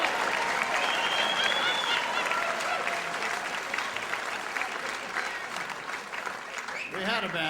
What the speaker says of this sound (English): How about a round of applause for our band?